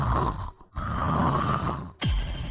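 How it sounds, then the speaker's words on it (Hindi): Loud, close snoring from a cartoon character, two long rasping breaths separated by a brief silent gap, with no other voices over it. "मम्मी को सोने दोगे या फिर यूं ही कुंभकर्ण बने खर्राटे लेते रहोगे?"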